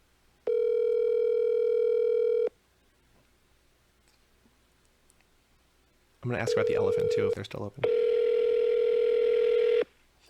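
An outgoing telephone call rings in long steady tones, one ring early and another later, while a person talks over the line between rings.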